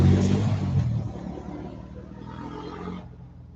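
A loud car or motorcycle roars through a neighborhood, its engine rumble heavy at the start and then fading steadily as it drives off into the distance.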